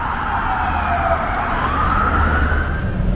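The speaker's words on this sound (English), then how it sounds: "those police cars are running off to a suspicious package call down at a school in southeast DC." Police car sirens wail continuously in the street of southeast DC as cars respond to a suspicious package call, loud and sweeping in pitch over steady traffic rumble.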